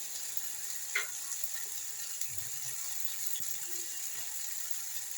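Spices and chili sauté in a pan with mustard and yogurt for a Bengali mustard hilsa curry, giving a soft continuous sizzle with a few light clinks of the stirring spoon.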